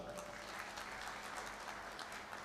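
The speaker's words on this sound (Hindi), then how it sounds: "इनके लिए बहुत सारी तालियां।" An audience at a firm's annual meeting claps steadily, a dense continuous patter of many hands heard from a short distance, without any voices rising above it.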